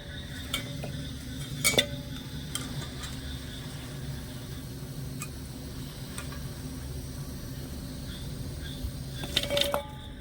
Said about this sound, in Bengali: এবার আমি চিনি সেরার মধ্যে একটু ভালো করে মিশিয়ে নেব